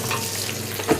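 Onions sizzle in a pan as tomatoes are stirred in, a soft, steady hiss of frying with a brief clatter near the end, faint and without voices.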